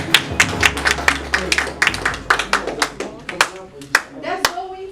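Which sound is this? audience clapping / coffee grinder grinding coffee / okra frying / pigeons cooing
audience clapping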